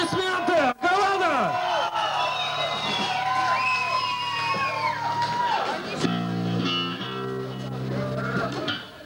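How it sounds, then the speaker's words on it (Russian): An audience shouting, whooping and cheering for a team at an awards moment, loud and continuous crowd noise with raised voices mixed throughout. "Аплодисменты! Команда!"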